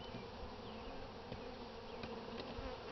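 Honey bees drone steadily around an open hive during a spring inspection, a dense, continuous buzz with a few individual bees passing close.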